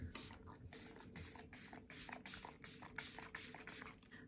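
Close, quiet spritzes of a makeup setting spray bottle, about ten quick pumps in a steady rhythm.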